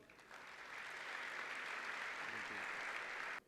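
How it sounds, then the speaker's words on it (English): An awards ceremony audience gives a round of applause that starts suddenly, holds at an even, fairly distant level for about three seconds, then cuts off abruptly. "But still a huge round of applause."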